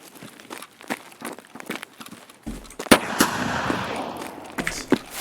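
Gunfire in Escape from Tarkov during a raid: a couple of sharp, loud shots crack out midway through, with footsteps and movement before and a rumbling tail after.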